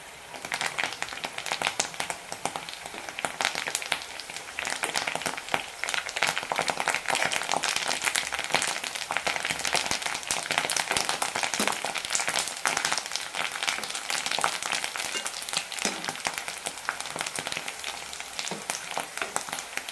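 Curry leaves spluttering in hot oil while channa masala fry is being made: a dense, continuous crackling sizzle with sharp pops, steady and fairly loud for the whole stretch.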